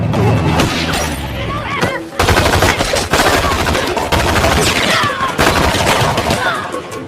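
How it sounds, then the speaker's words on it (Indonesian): Rapid gunfire from a movie shootout in which an agent fires at a man who trips: dense bursts of loud, close shots run almost the whole time, with a sharp cutoff and restart midway, and voices mixed in. "tiba-tiba Tim tersandung sehingga tembakan Agen Cruz meleset."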